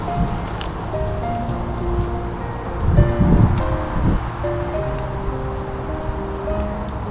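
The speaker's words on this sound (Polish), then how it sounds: "troszkę wiatr wieje." Wind gusting across an open cemetery among tombstones, a steady broad rushing with a stronger gust partway through, heard alone without talk.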